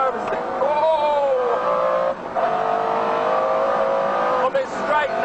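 A McLaren F1 road car's engine howls under acceleration, a loud sustained in-car roar whose pitch climbs through the gears with brief dips at the shifts, while someone talks over it.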